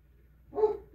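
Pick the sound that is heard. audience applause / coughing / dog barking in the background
dog barking in the background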